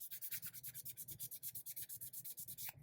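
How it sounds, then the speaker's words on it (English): Steady, rhythmic rasping strokes of sandpaper smoothing a small sculpted quarter-scale Wolverine figure, quick and even, close up and fairly quiet. "Let's sand that out."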